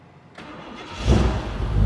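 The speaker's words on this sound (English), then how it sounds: "let's give it a start and let's see what it sounds like" A 1955 Chevrolet Bel Air fitted with Holley Sniper EFI cranks briefly and then fires, its engine catching and settling into a loud, rough idle close by.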